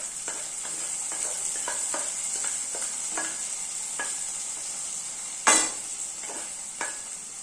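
Fried manathakkali berries and their oil poured into a pot of sizzling vatthal gravy, a steady hiss running throughout with light stirring clinks and one sharp louder splash midway, no talk.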